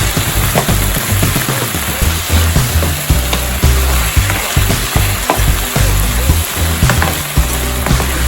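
Chicken afritada in a hot pan, sizzling and frying loudly and steadily while being stirred, with scraping stir strokes over the constant crackle.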